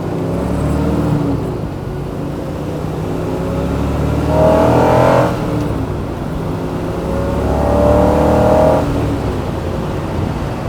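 A 1967 Chevrolet Corvette L71 427 V8 engine rumbles and revs up twice, climbing in pitch each time before settling back, loud and close with no talking.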